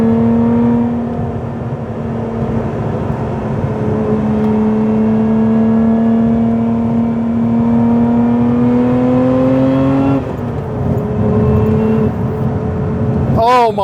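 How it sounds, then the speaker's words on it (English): A 2024 Lotus Emira's supercharged engine pulls hard from inside the cabin, its tone rising steadily through a long acceleration, dropping at a gear change and climbing again, with supercharger whine and occasional talk over it. "You really hear that supercharger when you start accelerating as well."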